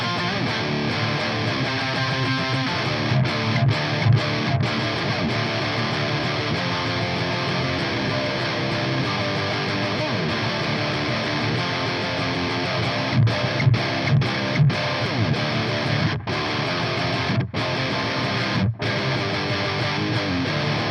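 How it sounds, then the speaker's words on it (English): An electric guitar tuned to drop C plays heavy pop-punk through an Orange Rockerverb 100 amp: a loud, thick, distorted wall of sound that runs without a break, with brief choppy stops and stabs near the middle and end. "let's hear a Rockerverb doing what a Rockerverb does best: heavy pop punk."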